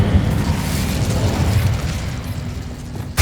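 An Incendio fire spell cast in Hogwarts Legacy gives a loud, steady roaring burst of flame that sustains as a thick rumbling whoosh, ending with a sharp crackle.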